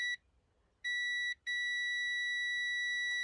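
A multimeter gives continuity test beeps while ceiling fan wiring is checked during an HVLS fan install: one short tone, a longer tone, then a sustained beep that holds to the end, clear and alone.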